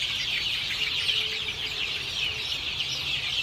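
Chickens cluck and chatter together in a steady, dense flock sound, close by and continuous with no talking, as they are moved into cages for automatic beak trimming.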